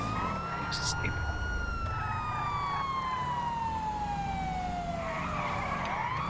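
Police car siren in Grand Theft Auto V online, a steady wailing tone sweeping slowly downward over a low engine rumble, moderately loud and continuous throughout.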